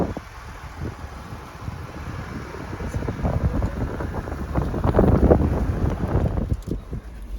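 A vehicle on tires aired down to about 20 psi cruises slowly through deep snow during a blizzard, with a steady low engine rumble and crunching under constant wind and road noise.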